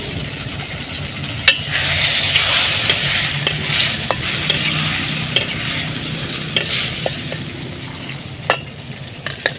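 Tomatoes and tamarind stirred as they fry in a pan, a steady close sizzle with repeated scraping strokes and light utensil clicks throughout, no talking.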